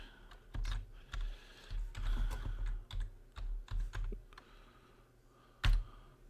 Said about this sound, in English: I'm just typing a clue now.